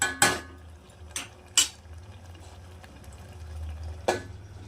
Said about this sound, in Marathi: आता झाकण ठेवूया.